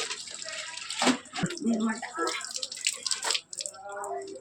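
Splashing, running water with sloshing bursts, close by, as clothes are pulled from the water and carried off, while people talk over it.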